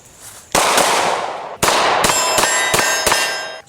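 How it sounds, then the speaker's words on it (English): Glock pistol being safety checked, its slide racked in a few sharp metallic clacks, loud and close, with no talk. "We're going to safety check the pistol just to make sure that it is unloaded."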